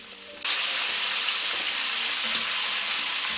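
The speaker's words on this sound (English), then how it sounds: "as you are frying your next batch" A loud, steady sizzle of Buffalo chicken wings deep frying in hot oil starts abruptly and continues without a break, close up.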